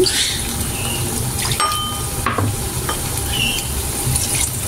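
Beef sizzles and fries steadily in a hot wok, with a few scraping stirs and clinks of a utensil against the metal.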